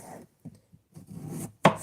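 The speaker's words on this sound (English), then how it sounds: "I have to cut some onions specifically for my" A knife chopping onions on a cutting board, a handful of irregular thuds and scrapes with brief quiet gaps, ending in a sharp loud chop close by.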